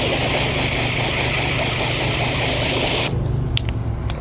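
A pressure washer with a short pistol grip blasts into the wheel wells of a Lamborghini with a loud, continuous spray that stops after about three seconds, followed by a few faint clicks and drips.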